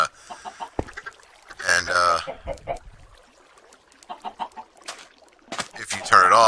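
Chickens clucking near an egg dispenser in a video game, short bird calls scattered through the clip amid other game sounds, with someone talking over them.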